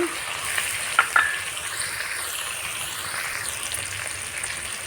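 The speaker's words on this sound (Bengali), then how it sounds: "এবার ভালো করে নেড়ে চেড়ে কষিয়ে নেব" Chicken frying with salt and turmeric powder in a pan for biryani, stirred with a utensil: a steady close sizzle with a couple of sharp scraping clicks near the start.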